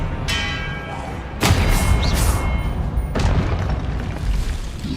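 Booming spell blasts from the game Hogwarts Legacy: a sharp explosive crack, then a second loud burst a couple of seconds later, over a dense, rumbling background of in-game combat noise.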